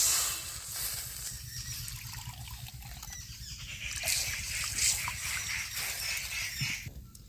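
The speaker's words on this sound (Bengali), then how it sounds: "এবার পরিমাণ মতো আমি জল দিয়ে দিচ্ছি।" Water is poured into ground mustard paste in a cooking pan: a soft, continuous trickle close by over a low kitchen hum, with no talking.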